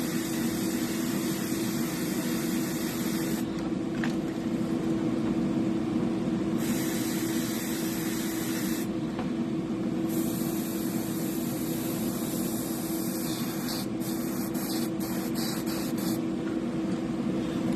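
Paint sprayer hissing steadily as it coats a zombie shad fishing lure, a continuous close airy spray with brief on-off bursts and a low motor hum underneath throughout.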